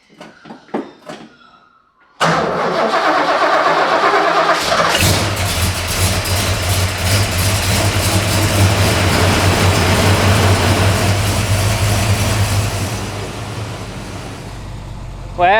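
A car's engine starts with a quick crank and settles into a strong, steady running drone on an afternoon drive in Mildura, staying loud and close before easing slightly near the end. The car has a clutch that needs strengthening.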